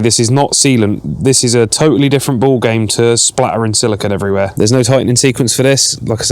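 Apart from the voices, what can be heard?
No everyday noise stands out behind the speech.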